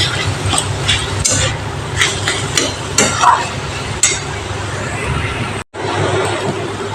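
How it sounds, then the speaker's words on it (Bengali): A spatula stirs ash gourd (gami kumro) pieces frying in a pan, giving repeated scraping clatters over a steady sizzle. After a brief cut near the end, the frying hiss continues. "এবার আমি একটু ভালো করে নেড়ে নিচ্ছি"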